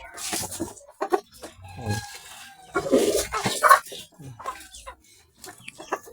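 Chickens pecking and eating crushed calcium feed nearby, with repeated clucks, soft squawks and scattered pecking taps at an uneven, busy rhythm, no talk.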